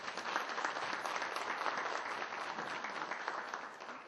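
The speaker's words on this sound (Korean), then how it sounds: "큰 박수 주십시오." A large audience applauds steadily at the 13th Korea Traditional Song Awards ceremony in 2014. The clapping forms a dense, even roar that holds for about four seconds at close range.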